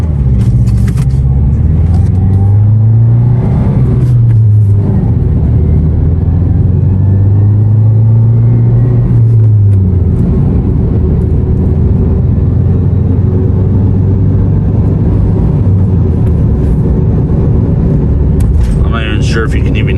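A 2014 Subaru Forester with a muffler-delete exhaust drives along, giving a continuous deep exhaust drone and rumble with a couple of rising revs near the start. The engine is close and loud throughout, and no one talks.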